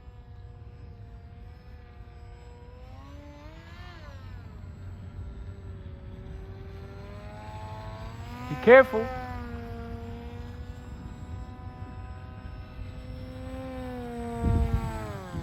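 A propeller-driven model airplane drones steadily overhead, its engine pitch rising and falling as it passes, with brief talk and a few knocks partway through.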